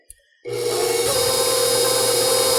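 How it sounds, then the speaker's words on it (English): A KitchenAid stand mixer with a grinder attachment starts up after a brief click and settles into a steady, loud motor whir with a constant hum while grinding fresh beef. "we're gonna go ahead and start grinding"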